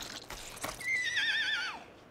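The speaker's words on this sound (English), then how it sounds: "So there's a horse, Rick, now?" In a Rick and Morty cartoon, a horse gives one loud, wavering whinny that rises, trembles and then drops away. It comes after a few soft thuds and plays alone with no talk.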